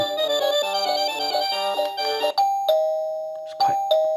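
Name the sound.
smart doorbell chime tune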